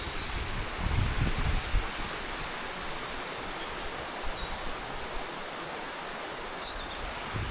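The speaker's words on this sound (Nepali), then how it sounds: "खोला नालाको आवाज सुन्नै मजा" A jungle stream flows along a hiking trail near the Budabudi waterfall, giving a continuous, even watery rush that stays close and unbroken throughout, with no speech.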